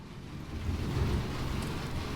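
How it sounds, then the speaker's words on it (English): Rain rattles on a hard metal roof in the horror video game Those Who Remain, a steady dense patter with a low rumbling undertone, continuous and moderately loud throughout. "You can hear that rain rattling on that hard metal roof."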